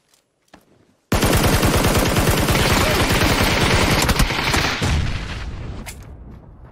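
Sustained automatic gunfire in the PUBG battle royale game: a loud, close, continuous burst of rapid shots lasting several seconds after a brief quiet start, easing off slightly near the end.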